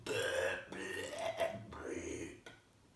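A narrator's voice imitates a greedy aunt's loud, drawn-out belch while she gobbles food, a croaky rumbling burp lasting a few seconds, close and alone.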